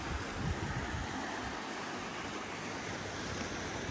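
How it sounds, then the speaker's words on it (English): Cold wind blows hard at the seaside in Bridlington, a loud continuous broadband rush with surf washing underneath and no voices. "We've got the usual wind blowing, the cold wind"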